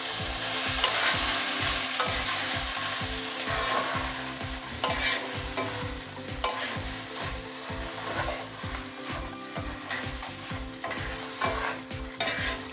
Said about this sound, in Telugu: ఒక 5 నిమిషాలు నెయ్యిలో బాస్మతి రైస్ని ఇలా ఫ్రై చేసుకోవాలి.